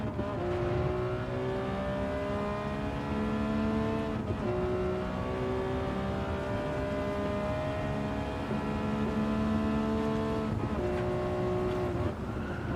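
A race car engine in Gran Turismo 7 holds a steady droning tone with rising pitch, broken by two gear changes where the note drops and climbs again, loud and continuous.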